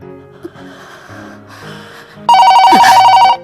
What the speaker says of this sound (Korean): 호텔 데스크에 전화가 옵니다